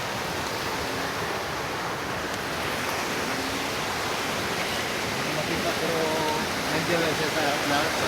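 A strong stream current at night, rushing water as a constant broad roar that fills the whole stretch, with faint voices underneath.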